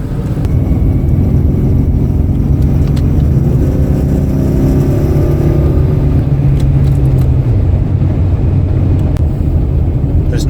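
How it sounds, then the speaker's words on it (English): A 1985 Jaguar XJS engine purrs while driving, a smooth continuous low hum from inside the cabin with a gradual pitch shift as the car changes speed, loud and steady throughout. "You can hear the purr of the motor"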